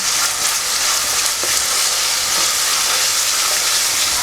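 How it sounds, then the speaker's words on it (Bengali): Onions frying in a pan for a Bengali chicken curry, browning with a steady loud sizzle and hiss that holds unbroken throughout, with no voices. "এইবার এই পেঁয়াজটা কী হবে, একটু ব্রাউন করে ভাজবো।"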